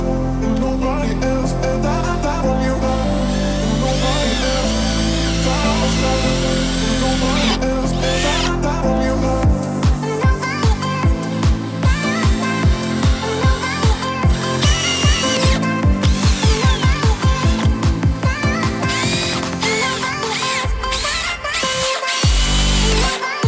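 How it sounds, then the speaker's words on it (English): Power drill with a 5/16 drill bit boring holes while a launching wheel kit goes onto an inflatable boat: a steady loud whirring motor with rapid rhythmic grinding pulses, running close and alone without talk. "let's drill using a 5/16 drill bit"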